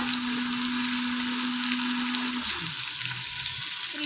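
Onions fry in hot oil for mutton yakhni pulao, giving a dense, continuous sizzle with faint stirring and a low tone that fades midway.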